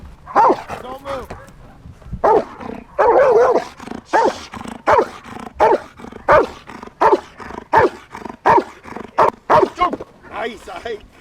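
A German Shepherd barks repeatedly in sharp, loud bursts during protection-style training, the barks coming in a steady rapid series with a handler's voice heard around them.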